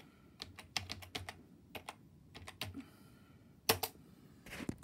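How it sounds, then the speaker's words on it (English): Quiet computer keyboard keys are tapped in short bursts of separate clicks as a password is entered on a Windows 11 machine, with pauses between groups. "So I got to type in the password"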